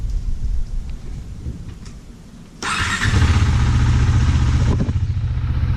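A KTM Duke 390 BS6 motorcycle is left running, starting with a low uneven engine sound, then a sudden louder burst as the idle picks up into a steady, close, throbbing rumble.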